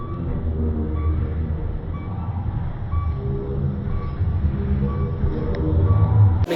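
Steady low rumble of a train at Ambernath railway station, with rolling wheel drone and faint tonal hums continuing throughout, growing slightly louder near the end, with no speech.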